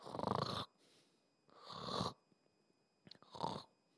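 Three loud snore-like rasps in a row, each about half a second long, separated by quiet pauses, in a children's church story about the boy Samuel sleeping on his pillow. The sound may be a voice imitating snoring.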